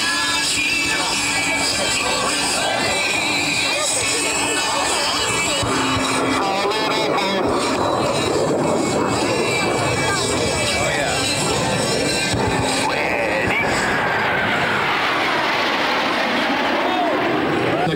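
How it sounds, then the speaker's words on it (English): Four US Navy Blue Angels jets in Diamond formation performing an aileron roll at the 2008 Quad City Airshow, a loud sustained engine roar with a shifting pitch as they pass, under an announcer's commentary. "The Diamond are on roll. Approaching center point, on signal from Captain Mannix, all four pilots will roll their aircraft 360 degrees simultaneously."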